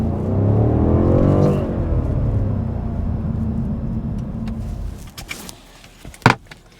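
A 2020 BMW M550i V8 with its Active Sound Design switched off revs up and then falls away to a low idle, followed by a few sharp clicks and knocks nearby.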